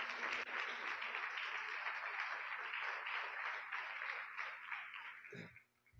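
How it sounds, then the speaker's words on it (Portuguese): A church congregation claps steadily and loudly for several seconds, a dense sustained wash of applause that tapers off at the end. "Aplaude o nome do Senhor."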